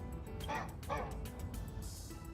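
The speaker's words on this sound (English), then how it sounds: "Yeah, why do you hear a dog?" A dog barks in the video game Honkai: Star Rail, two close yipping barks in quick succession with fainter whimpers after them, set against steady game background sound.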